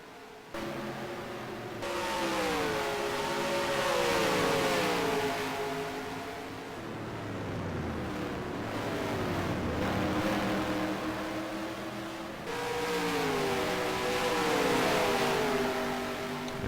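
F5 Cup race cars lapping the Richmond short track, engines roaring loudly with repeated rising and falling pitch sweeps as cars accelerate off corners and pass by, steady and continuous with no voices.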